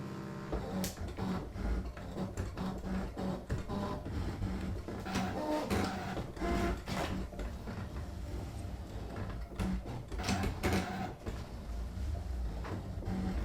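A Brother ScanNCut cutting machine half-cuts heat transfer vinyl, giving a quiet, continuous mechanical whir with rapid clicks and sliding shuffles as the blade carriage moves back and forth, heard close and alone.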